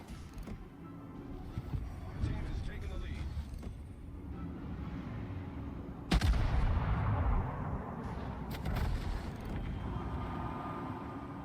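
Heavy naval gunfire from ships in the World of Warships game: low booming blasts rumble through a dense bed of battle noise, with one sharp, loud salvo standing out near the middle and people talking over it.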